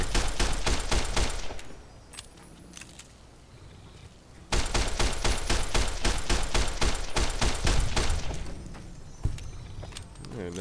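Fallout New Vegas gunfire: loud, rapid automatic bursts rattle steadily, ease off into a quieter lull for a couple of seconds, then resume just as dense until the end.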